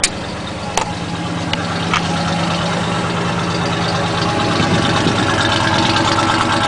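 A 1977 Chevy K10 stepside truck engine idles after a cold start, holding a steady close, loud rumble with a few small clicks at the start.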